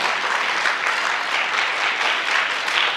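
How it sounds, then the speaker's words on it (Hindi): An audience applauds steadily and evenly during a lamp-lighting ceremony at a national ballet and dance festival. The dense, continuous clapping runs the whole time with no voices over it. "आप लोग सब लोग भी तालियां बजाकर सम्मिलित हो सकते हैं"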